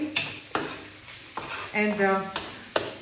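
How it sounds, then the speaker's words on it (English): Rice frying in a pan with squid juices for black paella, a steady sizzle with scraping stir strokes and a few sharp utensil knocks against the pan. "we're frying rice until we feel that it's absorbed enough of all the juices of the squid"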